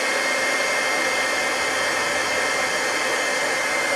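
A heat tool drying white paint on glass blows with a steady, loud, hissing whoosh that holds unchanged throughout.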